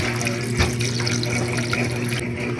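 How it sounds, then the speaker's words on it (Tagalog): Water poured into a cooking pot while preparing sinaing na tulingan, a steady close splashing stream running loud and alone for a few seconds. "Ato ning butangan og tubig mga idol."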